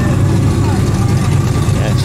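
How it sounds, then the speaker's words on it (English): A Volkswagen Super Beetle idles at very low revs at a cars and coffee meet, giving a continuous, even, low rumble. "Idling at like 4 RPMs?"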